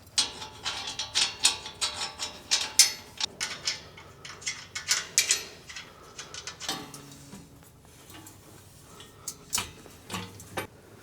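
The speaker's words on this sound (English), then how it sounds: "Now we're just going to put the washers and the locking nuts back on these and tighten them up." Washers and locking nuts go onto the grill guard of a small tractor and are tightened with a ratchet, making close, quiet metallic clicks and ticks in irregular bursts and short runs.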